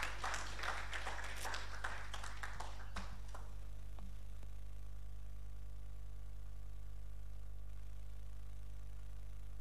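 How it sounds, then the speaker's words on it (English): A conference audience gives a round of applause to welcome a professor, a burst of clapping that thins and fades after about three seconds, leaving a steady electrical hum. "A round of applause to welcome Professor."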